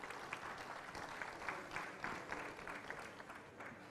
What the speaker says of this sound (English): I think a loud round of applause.